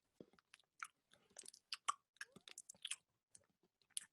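A voice imitates chewing gum, making quick wet smacking and clicking mouth noises in an uneven rhythm, faint and close, as part of a beatbox exercise.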